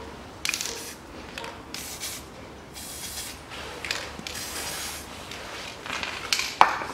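Short bursts of aerosol lubricant sprayed onto a part of a 2010 Chery Amulet A15 1.5, several hissing sprays of varying length with small metallic clicks and handling noises between them, close by.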